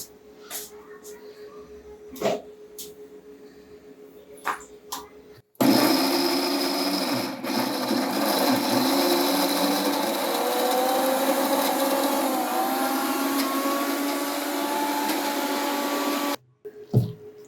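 A mixer grinder coarsely grinds soaked lentils for banana-flower vadai, its motor roaring loud and steady for about eleven seconds after a few quiet kitchen clicks, then cutting off abruptly.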